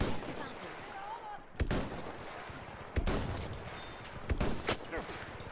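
Battlefield 1 gunfire on the Soissons map, a few sharp, loud shots spaced apart over a steady din of battle noise, with a burst of quicker rounds near the end.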